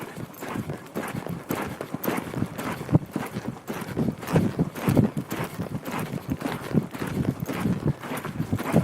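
A horse shifts and steps about in an arena corner during groundwork, hooves clopping in an irregular, fairly close series of thuds with a few louder footfalls.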